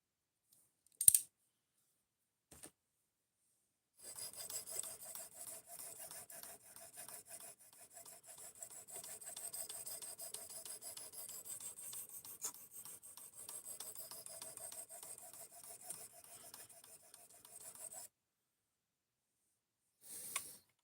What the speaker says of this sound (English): you can sharpen some pretty damn big knives